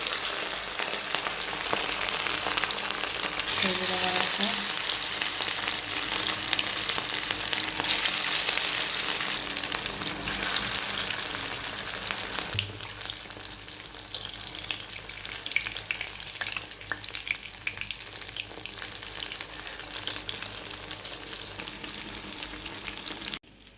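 Shrimp fritters fry in hot mustard oil in a wok, giving a loud, steady sizzle and crackle that runs unbroken for about twenty-four seconds with no voices.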